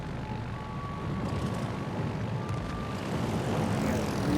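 Propeller aircraft drone steadily in the naval battle game World of Warships Legends, a continuous engine hum that grows slightly louder with nothing else over it.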